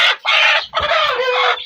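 A broody hen gives loud, close clucks and drawn-out calls in a short burst of three phrases, with no talk.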